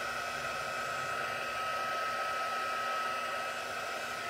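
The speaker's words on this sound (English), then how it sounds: "heat tool, you want to let it heat up first before you apply it to your embossed item" An embossing heat tool set to its second setting runs as it heats up, giving a steady, even blowing whir with a constant high whine, alone with no talking.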